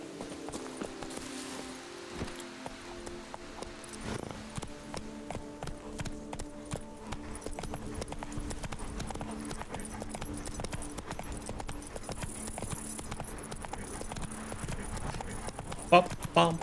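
Roach, a horse in The Witcher 3 (Blood and Wine expansion), clops her hooves in an irregular pattern, mixed under steady in-game music and ambience.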